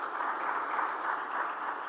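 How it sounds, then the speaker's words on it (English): A corporate quiz final audience in Delhi applauds, steady dense clapping from a crowd for the whole short moment, with no talking over it. "Can we have a round of applause for the Delhi final?"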